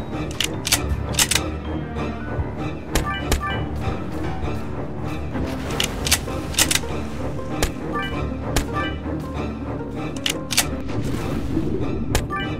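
Rapid gunfire fills a Roblox shark-escape game, with dense repeated sharp cracks and bursts stacked over a busy, continuous game soundtrack.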